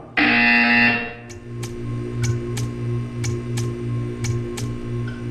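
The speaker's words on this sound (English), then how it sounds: "You will hear a buzzer. When you hear the buzzer, stare at the art." A loud electronic buzzer sounds once in a Portal 2 test chamber, lasting about a second, followed by a steady low hum and a series of regular sharp ticking clicks spaced roughly half a second apart.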